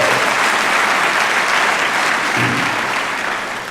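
Sustained applause from a large audience at a university general assembly in a hall, a dense wash of clapping that stays loud throughout and only begins to fade at the very end.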